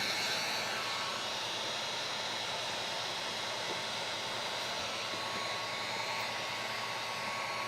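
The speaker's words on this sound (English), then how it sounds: "cut the edge and then tighten it up with a heat gun" A heat gun blows steadily on tint film over a car taillight, giving a continuous, even hiss-like roar at close range that holds for several seconds, with no voices.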